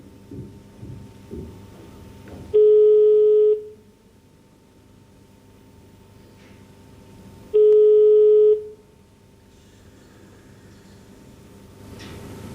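Telephone ringback tones on a dialed line: two long, steady electronic tones about five seconds apart, each lasting roughly a second, clear and alone over faint line hiss.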